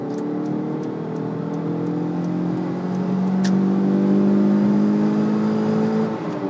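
An old Toyota RAV4 engine hums and revs, its pitch climbing smoothly and holding steady, close by and continuous with no voices.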